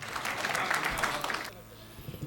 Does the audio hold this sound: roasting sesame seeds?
no